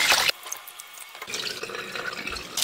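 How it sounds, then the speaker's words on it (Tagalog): Basmati rice being rinsed in water for chicken biryani, with a burst of running tap water, then quieter sloshing and swishing of grains and water in a bowl, close and alone. "kailangan muna natin itong hugasan"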